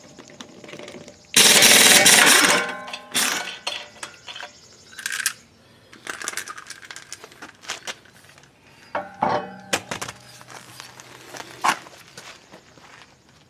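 Lug nuts come off the front wheel of a 2007 Dodge Durango with a bad wheel bearing: a loud burst from an impact wrench, then clanks, rattles and scattered metallic knocks nearby.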